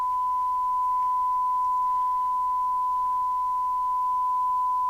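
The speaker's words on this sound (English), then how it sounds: "I want a S9 equivalent signal of 100 microvolts on the radio." A Binatone 5-star CB27/81 UK FM CB radio puts out a steady, unbroken test tone during retuning and testing, a single pure pitch held at constant level over faint background hiss.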